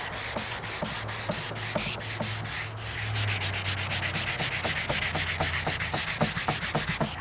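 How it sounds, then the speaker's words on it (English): A cabinet surface is scuffed by hand-sanding, with rhythmic back-and-forth rasping strokes close by, steady and moderately loud, picking up pace in the second half. "now I'm just gonna sand it here. Just a little, just a bit of scuffing"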